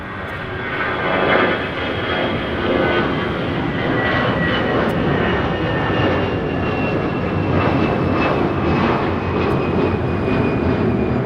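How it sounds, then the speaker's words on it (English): Delta Airbus A320 taking off from LAX bound for Dallas-Fort Worth, a loud sustained jet engine roar with a whining tone, steady and close throughout with no speech. "This is Delta Airlines 521 taking off to Dallas-Fort Worth on an A320"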